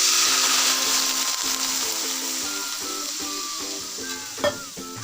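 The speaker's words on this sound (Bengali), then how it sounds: "এবার এর মধ্যে জল দিয়ে দেবো সেদ্ধ হওয়ার জন্য।" Potatoes and pui greens with turmeric and onion sizzle loudly in a pan as water is added, a dense hiss with stirring scrapes and a soft clink near the end.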